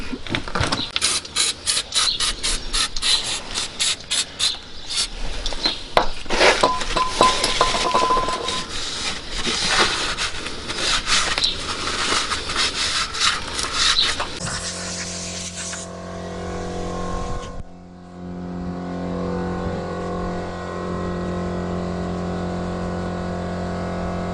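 A metal transmission pan from an AU Ford Falcon being scrubbed and wiped clean, with close clinks, scrapes and rattling for about fifteen seconds, followed by a steady low hum.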